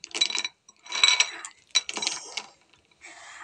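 Crunchy fried gatta bhaja snacks rattle and clink in a container in several short bursts with gaps between them, up close and fairly loud, with no talking.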